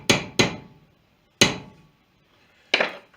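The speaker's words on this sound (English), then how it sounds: "Hopefully I don't hammer it through the vise." A hammer strikes a deer bone knife held in a vise, four sharp close blows, two quick then two spaced apart, each ringing briefly before silence.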